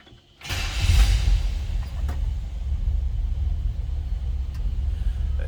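A 1960 Chevrolet El Camino with a 283 V8 fires up after a moment of silence, catching with a loud burst before settling into a steady, deep, rumbling idle close by.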